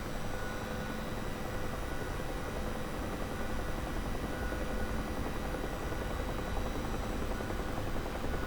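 Helicopter engine in the flight game DCS World, heard as a continuous faint whining drone with rotor hum that holds steady throughout, with no talking over it.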